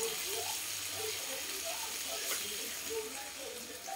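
Water poured into a pan of frying corned beef gives a steady rushing splash and hiss that holds at an even level for several seconds, close and continuous, with no talk over it.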